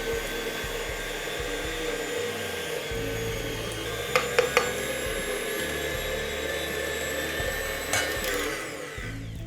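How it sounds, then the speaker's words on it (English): Electric meat grinder fitted with a larger-hole plate grinding cubed pork for Polish mielonka, a steady close motor drone with a few brief sharper knocks partway through. "all there's left is to get to grinding"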